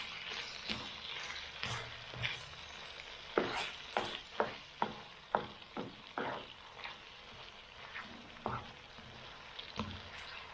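Pancit canhon, canton and sotanghon noodles with carrots, stirred in a frying pan: a steady oily sizzle broken by a string of scraping, clacking stirs, some sharp and close, spaced irregularly with no talk.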